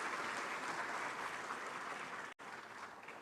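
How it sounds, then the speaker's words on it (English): Audience applause at the Afreximbank Annual Meetings, a dense, steady wash of many hands clapping from a large crowd, broken by a brief cut before continuing. "A round of applause."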